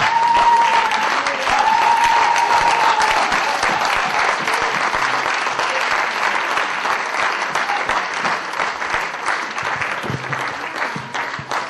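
A church congregation applauds loudly, a dense continuous wash of clapping that holds steady for the whole stretch and tapers only slightly near the end, with a few raised voices faintly mixed in.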